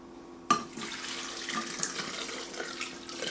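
Water pours into a Ninja Foodi blender jar holding frozen pineapple, a sudden splash giving way to a steady trickling gush that carries on to the end, close and fairly quiet.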